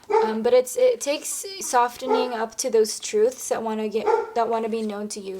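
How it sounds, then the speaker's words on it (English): A dog barks and yips in the background while someone speaks steadily in the foreground, the barks partly buried under her voice. "Apologies for my dog barking in the back."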